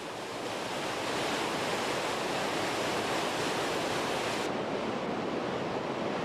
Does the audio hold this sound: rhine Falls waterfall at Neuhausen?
yes